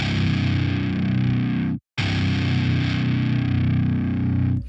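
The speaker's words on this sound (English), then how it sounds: "you can hear how you've got that pitch drift when you play the note really hard" A sampled guitar note struck at high velocity sounds distorted and heavy, bending slightly in pitch as it sustains. It plays twice with a brief silent gap between and no talking.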